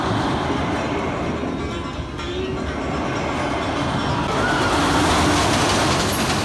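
Empty roller coaster train running along its track at Knott's Berry Farm, a steady loud rumbling roar with rattling wheels, continuous and close throughout with no talk.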